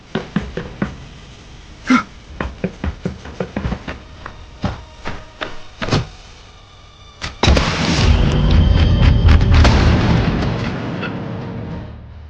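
Gunmen in an abandoned cement factory shootout in an action movie fire a scattered string of sharp, loud shots, then a dense, continuous barrage of heavy gunfire.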